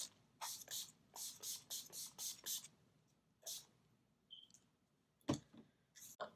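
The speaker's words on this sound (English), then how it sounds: "pop some all-nighter spray," Quick bursts of all-nighter setting spray misted onto a face, about eight short close hisses in a rapid series, then a pause with faint soft handling noises and a couple more brief sprays.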